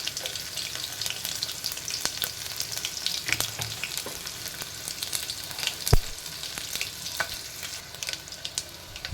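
Crushed garlic frying in hot oil in a pan, giving a steady soft sizzle with scattered crackles and a few sharp pops, close and alone with no talk.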